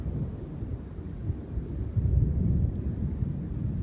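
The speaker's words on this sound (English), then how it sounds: "Very strong thunderstorm to the southwest." Deep rumbling thunder from a powerful monsoon thunderstorm over Las Vegas, Nevada, rolls low and distant, swelling midway with wind buffeting the microphone.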